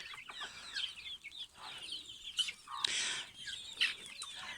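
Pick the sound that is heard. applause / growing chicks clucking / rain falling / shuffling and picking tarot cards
growing chicks clucking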